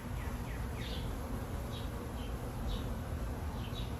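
Honeybees from a package colony buzzing steadily during a hive inspection, a dense continuous drone with occasional louder individual bees passing close to the microphone, no voices.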